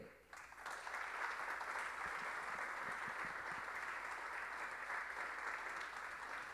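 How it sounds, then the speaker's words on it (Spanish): Steady, dense audience applause fills a music composition award ceremony, continuous and even from start to finish with no voices over it. "El gran talento reconocido esta noche por todas y por todos ustedes con esos aplausos."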